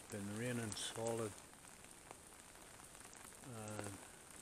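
Steady rain falling in a valley during a spell of bad weather, a soft continuous hiss running throughout while someone talks over it in short bursts.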